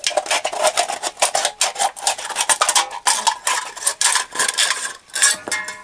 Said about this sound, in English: punch a hole into the can way above your line, and then just start cutting around, still about a ½ inch above the line